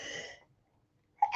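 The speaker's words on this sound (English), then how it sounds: "it's so interesting that I sneezed on that" A single sharp sneeze bursts out near the end, loud and close, following a short stretch of quiet after a fading vocal sound.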